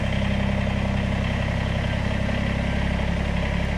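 A Kubota BX80 series compact tractor engine runs at a steady idle, a close, even, low diesel-like chugging with a constant rhythmic pulse and no talking over it.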